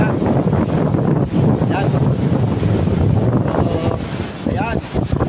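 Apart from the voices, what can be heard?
waves crashing against the pier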